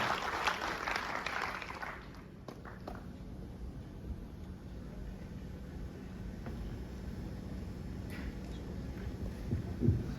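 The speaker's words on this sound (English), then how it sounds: "can we have a huge round of applause for the panel discussion that we are going to witness now?" Audience applause for a panel discussion at a university event, a burst of clapping for about two seconds that quickly fades into low room noise and scattered faint claps.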